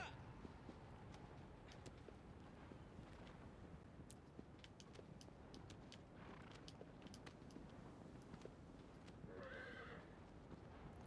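Horse in the video game Shadow of the Colossus whinnies loudly over a steady run of galloping hoofbeats, with the clip-clop continuing throughout and a rustling, ambient game soundscape behind it.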